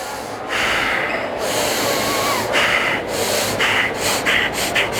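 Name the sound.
breathing in and out through the nose, hand over mouth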